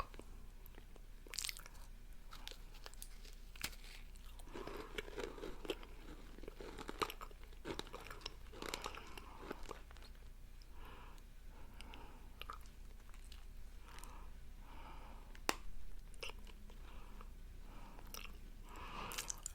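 Crunchy spicy cheese snacks are bitten and chewed close to the microphone, a run of sharp crisp crunches and softer chewing spread unevenly over a quiet background with no talking.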